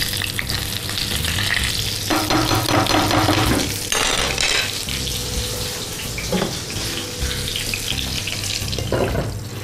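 Water is poured into a hot frying pan of sizzling food, raising a loud rushing hiss and bubbling over the steady frying, with stirring scrapes and clinks nearby.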